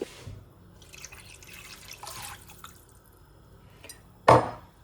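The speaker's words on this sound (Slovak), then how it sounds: "Dáme tam ešte trocha vody." Water is poured into a pan of browned food simmering in broth, a brief, fairly loud splash and sizzle near the end that follows faint kitchen clatter and drips.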